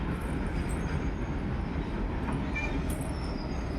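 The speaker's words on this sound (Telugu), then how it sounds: "ట్రైన్ వెళ్తుంది కదా" A train rumbles past nearby with a loud, continuous roar of wheels and carriages that holds steady throughout, heard during an evening walk.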